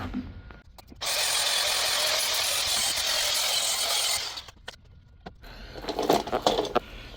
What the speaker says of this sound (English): Alright, got this thing grinded down.